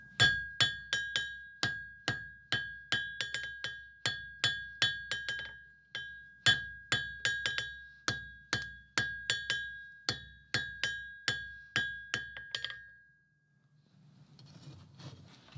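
Rhythmic ringing hammer blows on metal over the sharp edge of an anvil during blacksmith forging of a fireplace set's dragon head, a long series of bright clinking strikes with short pauses, ending in quieter shuffling.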